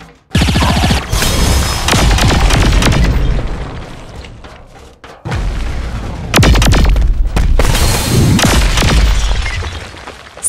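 Gunfire in the Saints Row 4 video game: loud bursts of shooting and booming impacts in two long dense stretches, with a brief lull and a sharp break between them.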